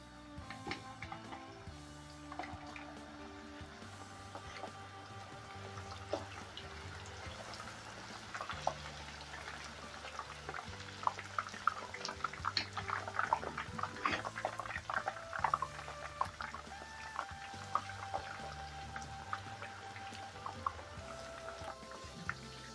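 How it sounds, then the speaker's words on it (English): Plantain slices fry in hot oil with a soft, steady crackling sizzle broken by scattered louder pops, quiet and close, with no voices. "The oil is on the fire. Let's start frying."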